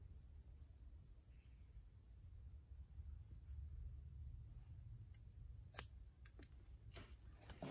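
Scissors cut hair during a cosmetology state board exam haircut. The snips are faint and scattered, mostly a few crisp clicks near the end, over a low background hum with no talk.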